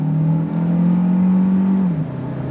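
A 2025 Kia Carnival Hybrid in sport mode accelerates with a steady, droning engine note that climbs slightly, then drops as it shifts, heard from inside the cabin.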